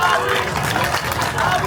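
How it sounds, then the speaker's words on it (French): A short burst of audience clapping and crowd noise at a public gathering, a steady dense patter over the whole moment. "S'il vous plaît, applaudissez."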